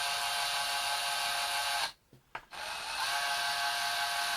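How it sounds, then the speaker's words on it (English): An electric drill spins a 3D-printed resin part so it cuts its own way through, a steady loud whirring grind that briefly stops and restarts. "So it's almost drilling itself through."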